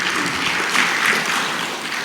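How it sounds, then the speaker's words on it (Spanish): A church congregation applauds two brothers after a sermon segment, a short burst of dense clapping from many hands lasting about two seconds, fairly loud and fading slightly at the end. "Un aplauso para estos hermanos."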